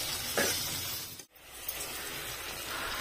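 Onions frying in a pan for homemade chicken biryani, a steady close sizzle with a brief stir and a short pause partway, no voices.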